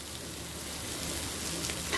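Grated coconut frying in hot oil for a Bengali shrimp curry, giving a steady, dense sizzle that holds at an even level from start to end, close and continuous with no talk.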